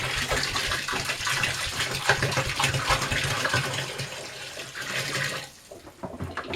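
About 25 liters of water gush steadily into a container for a homemade grape-pomace chacha mash. The pour is loud and continuous, then stops abruptly near the end, leaving a few faint splashes.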